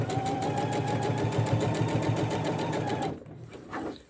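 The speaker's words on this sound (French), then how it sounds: "on va maintenant surpiquer cette couture vers le dos comme ça" A sewing machine topstitches a seam on homemade men's boxer shorts, running in a fast, even, close-up mechanical hum for about three seconds before stopping abruptly.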